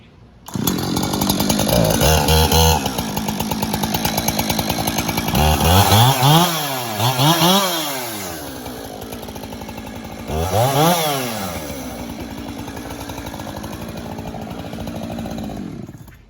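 A chainsaw cuts up a fallen ash tree, running loud and close for most of the stretch, its engine rising in pitch as it revs into the wood several times, then settling to a steady idle.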